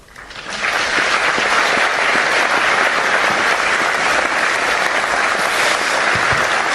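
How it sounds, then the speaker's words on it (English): An audience in a large hall applauds the Chairman of the Joint Chiefs of Staff, General Dan Kane, with clapping that swells within the first second and then holds steady and dense throughout. "Sounds to me like there was some applause, right?"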